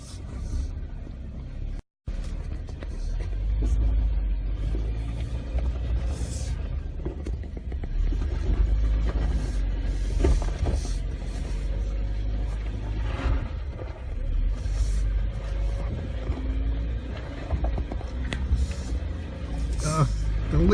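A 2018 Jeep Wrangler engine crawls off-road on steady, slow throttle, a continuous loud low rumble with bumps and knocks over rough ground and occasional voices inside the cab.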